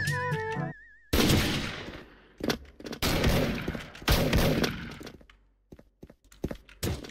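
Repeated bursts of gunfire from an MSG-90 DMR rifle in a shooter video game, loud close cracks arriving in irregular clusters with short gaps, no talking.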